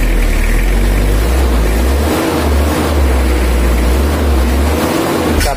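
A Toyota Kijang diesel engine drones loudly and steadily close by, running rough and down on power, rising and falling slightly as it is revved, with no voices.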